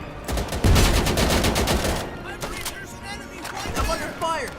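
Gunfire in the Xbox war shooter Easy Red 2, a burst of rapid shots up front followed by scattered reports and battlefield noise, with a voice speaking over the action.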